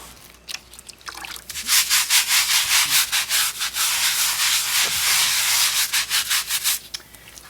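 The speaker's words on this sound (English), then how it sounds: "I'm wearing gloves for protection, using a scrub brush" A scrub brush scrubs a flagstone step in quick repeated rasping strokes, loud and close, in a steady back-and-forth rhythm with brief pauses.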